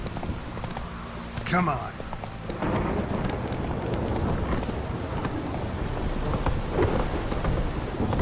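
Horse hooves clop steadily while riding in The Witcher 3, mixed with in-game rain and rumbling storm ambience, with a voice speaking briefly near the start.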